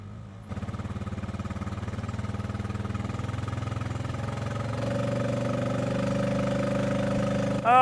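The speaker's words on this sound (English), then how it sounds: "let's try it with the four-wheeler." A four-wheeler ATV engine starts up and runs at a steady, throbbing idle nearby, its pitch rising slightly as it is revved partway through, with no voices.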